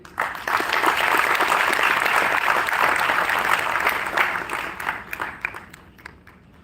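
Audience applause fills a university lecture hall as a pro-chancellor is invited to speak, a loud dense burst of many hands clapping that holds steady, then thins into scattered claps and trails away.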